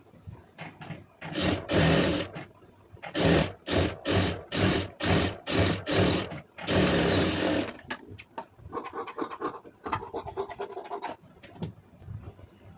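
Close by, a sewing machine stitches around a puff sleeve with a saree border, running in a string of short, rhythmic bursts and one longer run, followed by softer handling and rustling of fabric.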